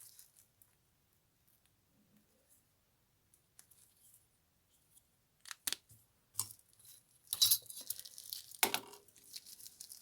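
Scissors snip through strips of plastic bag in a few sharp, crinkly cuts after a near-silent pause, the rustling snips clustered toward the end.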